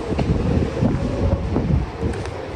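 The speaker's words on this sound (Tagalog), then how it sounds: "Napakalakas ng hangin." Strong wind in Greenland buffets the microphone outdoors, a loud continuous low rumble and roar with gusty swells and no speech.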